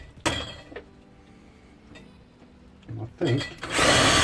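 A power drill boring through a control panel, short whirring bursts near the start and again toward the end that build to a loud, sustained grind, with someone speaking briefly in between.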